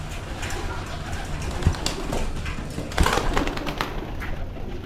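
Young pigeons coo softly at close range in a loft at feeding time, low murmuring coos under a busy background, with someone talking among them.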